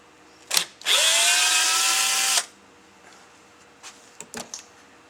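A power drill whirs steadily for about a second and a half, rising slightly in pitch as it backs a screw out of a Carter M772S carburetor for a Chrysler eight-cylinder, followed by a few faint clicks and taps.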